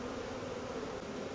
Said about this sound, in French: Ce serait peut-être bien des abeilles buckfast.